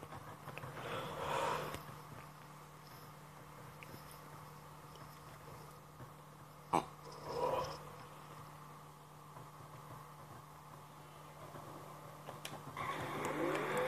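Muscle car engines from the racing video game Need for Speed Carbon drone low and steady through the clip. The sound is quiet and continuous, with a couple of brief surges and a sharp click midway.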